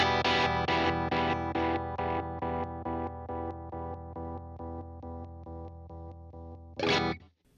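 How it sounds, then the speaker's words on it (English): Electric guitar chords run through an Orbit Panner stereo panning pedal, a rhythmic pulsing chop that slowly fades across repeated strums, ending with a loud final strum that cuts off abruptly. "So I turned the Orbit Panner on,"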